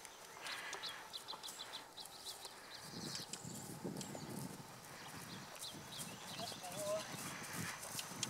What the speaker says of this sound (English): And now you should get a nice good trot.